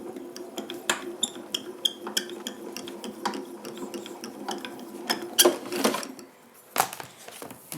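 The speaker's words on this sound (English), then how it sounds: "we're going to feed it through the grand caliper" A Spellbinders Grand Calibur die-cutting machine is cranked, feeding a card and embossing folder through with a Spellbinders adapter plate, producing close clicking ratchet-like ticks and creaks at an uneven pace, with louder clunks near the end.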